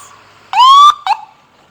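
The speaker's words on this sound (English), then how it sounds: "when you hear that siren, when you hear that engine revving" Ambulance siren from a Dominica emergency service sounding in short loud bursts: a long rising wail followed by a brief second whoop, with no clear engine revving standing out.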